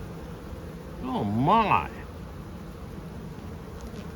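A crowded honey bee hive gives off a dense, steady buzzing hum throughout. Midway a person briefly exclaims over the drone.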